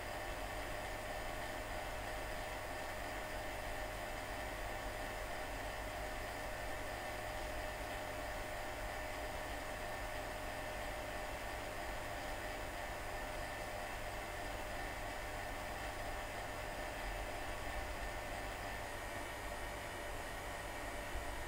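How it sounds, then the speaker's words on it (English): Hot air blows steadily over a glass neon tube being heated to drive off moisture, a constant even whoosh like a hair dryer, moderately near and unchanging throughout, with no voices. "The next step is heating the neon tube with hot air to attempt to displace water vapor and other impurities from the inner surface of the glass."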